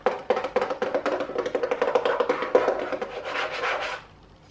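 Hands rub and scrape across the plastic underside of an Asus N552VX laptop in a quick series of close, dry rasping strokes that end abruptly.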